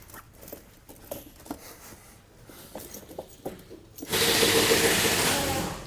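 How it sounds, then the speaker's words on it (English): Konig tire chains fitted onto a 2021 Ford Ranger tire, with sparse metallic clinks and rattles close by, then a sudden steady loud rush of noise for the last two seconds. "Just kind of fitting the chain as we go."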